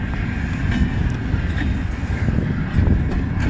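Eastbound CN freight train rolling past a Michigan siding, a steady loud rumble of wheels and cars with wind buffeting the microphone throughout.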